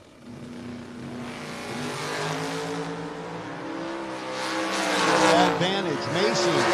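A Chevy S10 and an Oldsmobile drag race at a no-box 660 shootout, engines roaring and building in pitch as they accelerate down the strip, with an announcer talking over the cars.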